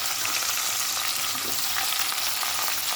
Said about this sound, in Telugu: ఎల్లిగడ్డ కూడా వేసుకున్నాను. మంచిగా వేగుతుంది